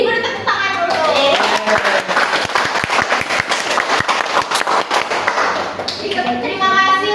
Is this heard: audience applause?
yes